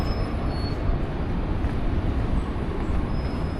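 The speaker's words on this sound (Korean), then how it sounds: "전철 여기 있네" A Buenos Aires subway train, a steady loud rumble of wheels and carriage noise with faint high squeals, continuous and close with no talk.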